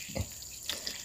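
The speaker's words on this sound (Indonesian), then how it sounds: "Ini kita siram dulu stroberinya" Water splashing onto strawberry plants being watered outdoors, heard as a few faint, brief, scattered splashes and trickles against a quiet background.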